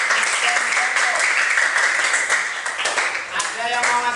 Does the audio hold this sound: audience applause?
yes